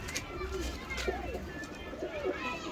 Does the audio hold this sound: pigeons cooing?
yes